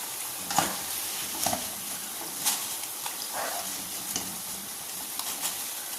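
Chicken popcorn fries in hot oil with a steady, soft sizzle, while a scoop repeatedly clinks and stirs through the pieces as they are lifted out, with no talk over it.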